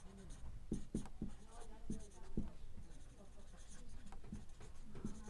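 Pen scratching on paper while a math permutation problem is worked out, a close run of quiet strokes and taps with irregular rhythm, a voice faintly talking in the background.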